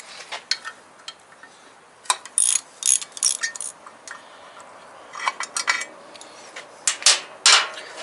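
An Allen wrench loosens the battery bolts on a Harley-Davidson Sportster motorcycle, making a string of close, sharp metallic clicks and ratcheting ticks in irregular bursts with no talk.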